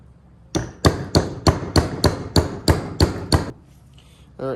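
A new seal is tapped into a Yamaha Kodiak 400 ATV differential with about ten sharp, evenly spaced hammer knocks. The blows are loud and close, followed by a brief softer clatter.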